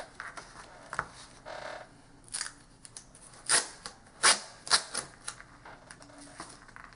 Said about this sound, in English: So I'm going to go ahead and take a piece of tape and cover the background